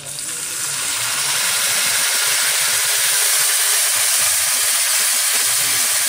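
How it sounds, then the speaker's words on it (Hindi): A loud burst of hissing steam as water hits a hot pan of turmeric and red chilli masala for egg curry, settling into a sustained, even sizzle and hiss. "अभी इसको आप थोड़ा सा पानी दीजिए"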